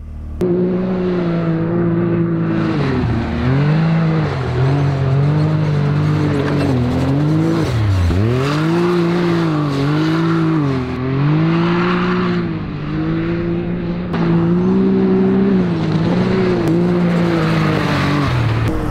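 A Can-Am X3 Turbo buggy drives through desert dunes in Dubai, its engine droning steadily and then rising and falling in repeated revs and gear changes, loud and close for the whole stretch.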